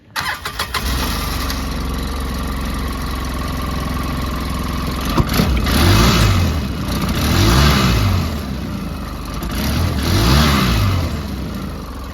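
A Polaris Ranger utility vehicle engine cranks and catches, then settles into a steady, loud idle with periodic swells in revving, close to the microphone.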